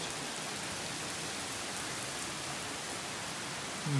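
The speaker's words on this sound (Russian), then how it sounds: "пошел дождь" Steady rain pours down in a dense, even hiss as Hurricane Dorian approaches Florida, filling the whole stretch, with no voices and only a slight swell at the very end.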